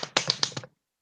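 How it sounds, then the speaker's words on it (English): A quick run of four or five crisp hand claps lands close and sharp within under a second, then cuts to silence. "Get the claps in now."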